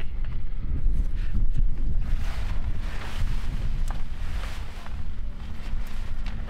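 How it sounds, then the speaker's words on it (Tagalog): Strong wind roars and buffets the microphone continuously, gusting low and heavy with no voices, at a lakeside campsite at Lake Tabeo in Kabayan, Benguet. "Hangin eh."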